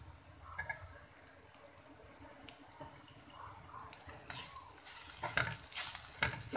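Parwal (pointed gourd) frying in spices with salt and hing, a soft crackling sizzle with scattered stirring scrapes that grows louder and busier toward the end.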